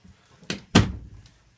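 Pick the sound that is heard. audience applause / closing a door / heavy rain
closing a door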